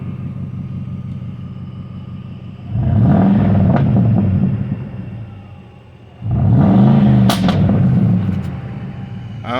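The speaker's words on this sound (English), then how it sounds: "I want you guys to hear the exhaust on this bad boy." A pickup's exhaust rumbles at idle, then revs twice in deep, growling swells, each rising and falling back to a low burble.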